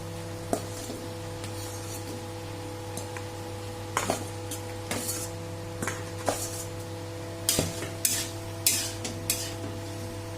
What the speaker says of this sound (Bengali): এবার ভাজা আলুটা আর পটলটা দিয়ে দেবো